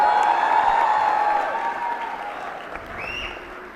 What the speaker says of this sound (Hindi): ज़ोरदार तालियों से स्वागत करिए चिराग पासवान जी का